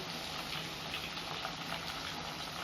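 Sweet corn kernels frying in oil over a medium flame give a steady, even hiss and sizzle throughout, with no voices over it.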